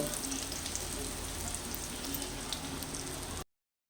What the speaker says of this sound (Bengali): এরকম করে দু পিঠি ভালো করে লাল লাল করে ভেজে নেব